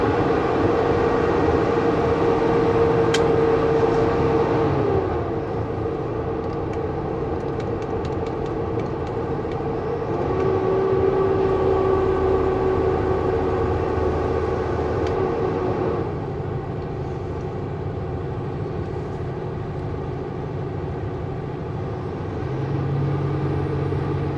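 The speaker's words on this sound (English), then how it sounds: "You can hear the fan." A truck's cooling fan roars as a steady broad whoosh over a low cab drone, continuous for the whole stretch with slight swells and a faint tonal whine coming and going.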